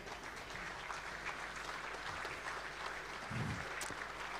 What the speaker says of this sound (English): a round of applause please for our 2017 class of AFL Victoria Life members